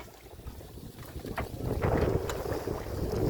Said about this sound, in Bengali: প্রচণ্ড ঢেউ, পূবে হাওয়া তো।